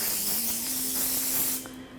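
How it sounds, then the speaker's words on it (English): A steady, close hiss from an olive oil cooking spray can, sprayed onto a focaccia or pizza pan, lasting about a second and a half, then it cuts off. "spray with the olive oil"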